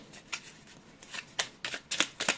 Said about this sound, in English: Let's get couple and then shuffle the other part.